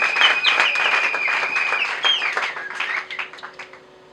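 Congregation applauding in a church, a dense steady patter of many hands with a few voices rising over it, fading toward the end.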